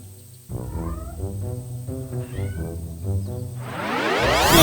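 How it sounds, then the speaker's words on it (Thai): A hungry cat meows repeatedly for lick-style treats: a close, loud run of pleading meows, then a rising rustle or scratch near the end. "นี่ไง ตันแตนขนมแมวเลียของโปรดไง มากินขนมเร็วมามามามามา"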